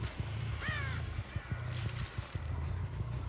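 Crow caws in the Dead by Daylight horror game, a short harsh call near the one-second mark, heard over a steady low in-game ambient drone with soft rhythmic thumps.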